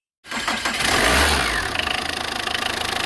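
A used Tata car's engine cranks over and catches after a short silence, then settles into a close, evenly pulsing idle.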